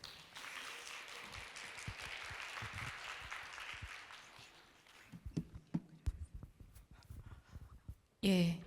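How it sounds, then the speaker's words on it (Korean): Audience applause at a college performance-sharing ceremony, a broad wash of clapping for about five seconds that thins into scattered claps and small knocks, ending with a brief loud burst. "큰 박수 부탁드리겠습니다"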